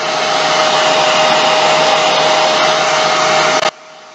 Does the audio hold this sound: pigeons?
no